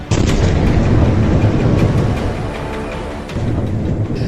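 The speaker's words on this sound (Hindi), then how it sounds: "धमाके का पहला वीडियो" A heavy, continuous blast rumble from explosions in Tartus, Syria roars loudly throughout, deep and booming with crackling texture, easing slightly toward the end before swelling again.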